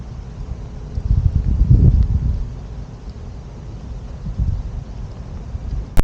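Wind buffets the microphone of an Insta360 One X2 camera, a low rumbling gust that swells loud in the first seconds, fades, rises again softly and ends in a sharp click.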